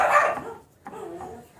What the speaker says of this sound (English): Dogs think they're gonna die if they don't bark at the mailman